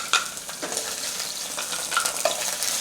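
Beef stir-fries with vinegar-marinated pickled chilies in a hot oiled skillet for Hunan beef. A loud, continuous sizzle carries a few quick scrapes and clinks of the spatula, heard up close with nobody speaking.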